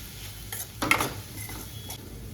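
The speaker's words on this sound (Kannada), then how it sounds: "ಸೋಯಾ ಸಾಸ್ ಹಾಕಿ ಮಿಕ್ಸ್ ಮಾಡ್ತಾ ಇದ್ದೀನಿ" Paneer filling with pepper and soy sauce being stirred in a pan on the stove: a brief, quiet scrape and light clatter of a spoon over a faint sizzle, no voices.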